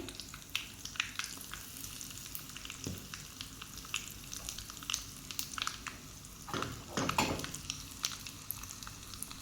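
Curry leaves and asafoetida sizzle in hot tempering oil for a tomato chutney, a close crackling fizz with sharp spits and a louder burst of spattering toward the end, with no talk.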